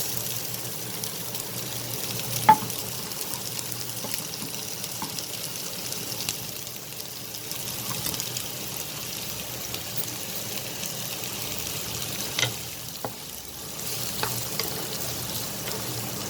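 Chopped onions frying in a pan, a low, steady sizzle that stays fairly quiet throughout, with a few sparse clinks of stirring.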